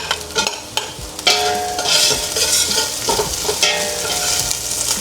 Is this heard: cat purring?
no